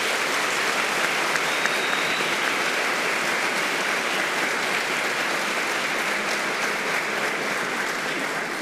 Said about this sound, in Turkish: o polislerin hepsini kutluyorum ve alkışlamanızı rica